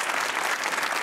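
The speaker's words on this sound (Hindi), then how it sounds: "तालियां बजनी चाहिए" A studio audience on a comedy talk show bursts into dense, even applause, a brief loud wash of clapping hands.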